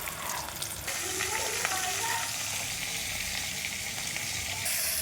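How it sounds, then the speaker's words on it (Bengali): Fish sizzling in a pan of hot oil for a Bengali fish curry with pointed gourd and potato, a steady close crackling fry that swells slightly after the first second and holds loud throughout. "মাছ এক খোলা ভাজা হয়ে গেছে, এটাও ভেজে নেবো"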